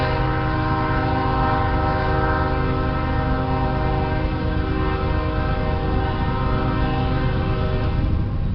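A train rolls past on railroad tracks right beside a factory garden, its horn sounding as a steady, loud blare with layered harmonics and continuous rumbling under it throughout.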